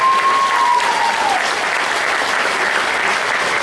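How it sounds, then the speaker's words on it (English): Steady crowd applause at the 2011 Jack Daniel barbecue competition awards, a dense even wash of clapping with a brief whistle-like tone at the start. "A big round of applause for all of those folks"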